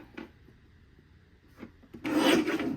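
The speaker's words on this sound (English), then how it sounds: "We'll trim this one at 6 1/4." A paper trimmer slices through a sheet of dark aqua cardstock, a short scraping stroke heard close up, preceded by two faint taps and ending in a louder rasping pass.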